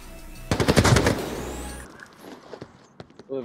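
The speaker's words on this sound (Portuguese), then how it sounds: "Tô levando tiro." Rapid automatic gunfire in the VR shooter game Onward, a close burst of shots lasting about a second and a half, followed by scattered faint pops and movement, with brief voice chat near the end.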